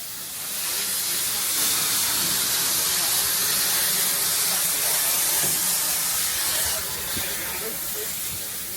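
Steam locomotive on the Watercress Line at Alton, Hampshire, venting a loud, steady hiss of steam close by that swells and holds for several seconds, with faint talk in the background.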